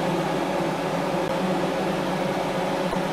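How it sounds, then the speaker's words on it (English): A microwave oven runs while melting coconut and castor oils for cold process soap, giving a steady, even hum and whir with no talking throughout. "So I am going to microwave this to bring it up to about 100 degrees."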